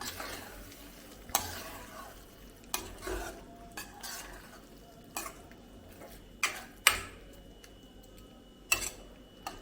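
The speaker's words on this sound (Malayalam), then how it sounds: "ഇനി ഇതിനെ ഒന്ന് ഇളക്കി കൊടുക്കാം" Egg masala seasoned with kasuri methi is stirred in a pan, a utensil scraping and knocking at irregular intervals over a soft, steady sizzle, each stroke sharp and close.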